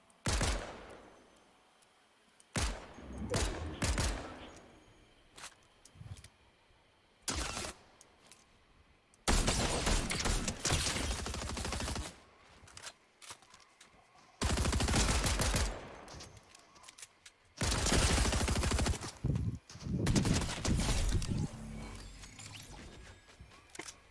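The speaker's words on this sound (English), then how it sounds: "I'm getting it with the tactical pistol as my first hit." Tactical pistol fire in the video game Fortnite comes as close, loud bursts of rapid shots in separate volleys with short quiet gaps between them, with no talk over the shooting.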